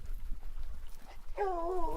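Hunting hounds on a lion's trail in a remote desert canyon give a single drawn-out bay, faint and distant, after a stretch of quiet outdoor background.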